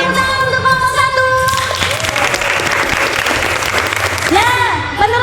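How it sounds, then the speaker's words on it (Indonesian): A school class claps for a group of classmates, a loud, dense burst of applause that starts after a sustained tone and carries on steadily, with voices calling out over it near the end. "beri tepuk tangan untuk kelompok 1"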